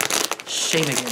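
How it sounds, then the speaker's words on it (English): A plastic bag being opened, a bright crinkling rustle up close that starts right after a short spoken phrase and then gives way to more talking. "That was the sound of a plastic bag opening."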